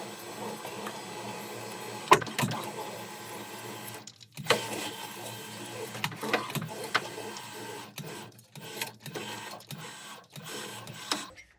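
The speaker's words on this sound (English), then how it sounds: "I want to make a flange here." Beading machine forming a flange in 0.88 mm aluminium sheet: a steady mechanical whirring with irregular clicks and clanks, several sharp knocks and brief pauses, moderately close, with no talk.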